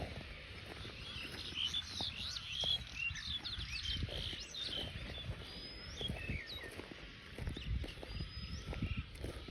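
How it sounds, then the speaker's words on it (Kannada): Scattered bird chirps and calls come from a distance over a steady outdoor hum and faint pattering noise at Ankasamudra. "ಇದರ ಪಕ್ಷಿ ಸೌಂಡ್ ಕೇಳಿ ಎಷ್ಟು ವರ್ಷ ಆಯ್ತು"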